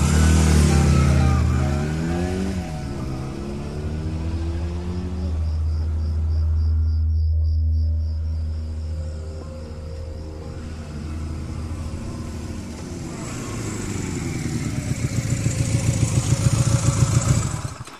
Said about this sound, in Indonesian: kupaksakan motorku menyala meskipun dengan lampu yang mati, dan cepat-cepat pergi dari tempat itu.